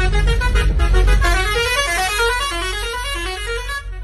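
A real Indian bus horn sounds in a bus simulator game, loud and continuous with a warbling, melodic multi-tone pattern that rises and falls for several seconds.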